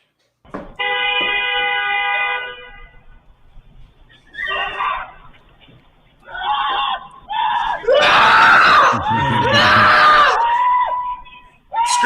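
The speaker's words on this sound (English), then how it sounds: "Screams of joy." A person screams in a played clip: a shrill, sustained wail rises, breaks into several strained outbursts, then swells into a loud, raw scream near the end, with brief pauses between.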